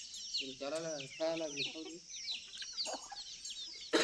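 Chickens cluck and call on a poultry farm in Maharashtra, a few fairly close bursts over steady farmyard background noise, with people talking nearby.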